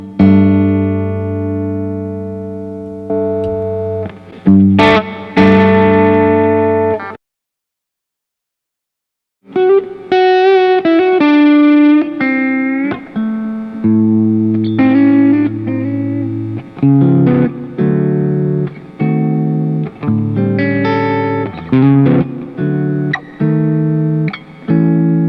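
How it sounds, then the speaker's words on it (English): Electric guitar played through a Nobels ODR1 overdrive pedal, sustained distorted chords and single notes ringing out loud and alone, with a short pause before a further run of strummed phrases. "This Nobels has a more pronounced distortion."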